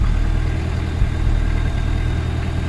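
A vehicle engine runs at a steady, loud, low idle just after start-up, a continuous rumbling drone with no talk over it.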